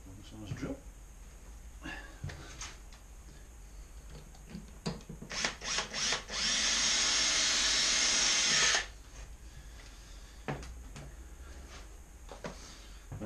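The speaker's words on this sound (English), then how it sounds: "One size drill." Power drill boring into a motorcycle exhaust, one steady loud burst of a couple of seconds, preceded by some clanks and handling noise, with someone talking quietly before and after.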